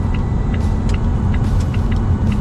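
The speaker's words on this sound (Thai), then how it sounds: "เดี๋ยวผมจะลองเปลี่ยนเลนด้วยความเร็วสูงให้ดูนะครับ" Steady loud road and engine rumble inside a Volvo S60 sedan at high speed during a lane change, a continuous dense roar with faint ticking over it and no talk.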